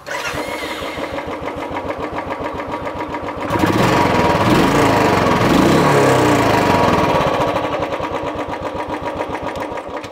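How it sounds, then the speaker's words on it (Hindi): An old Royal Enfield single-cylinder motorcycle exhaust thumps steadily at idle, swelling into a louder revving burst in the middle before settling back to a loping idle. "अब पुरानी वाली रॉयल फील्ड का साउंड सुना देता हूँ आपको"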